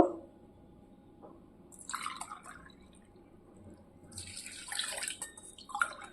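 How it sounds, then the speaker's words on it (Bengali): Four cups of water are poured into a pot in a home kitchen, heard as faint splashing and trickling in a couple of short bursts over quiet background noise. "এটা আমি চার কাপ জল দেব"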